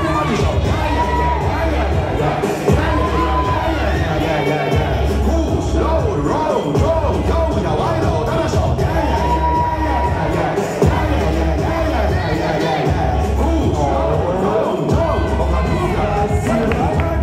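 A dancehall battle crowd shouts, whoops and cheers loudly and continuously over pounding bass-heavy music, with an MC voice calling out through the din.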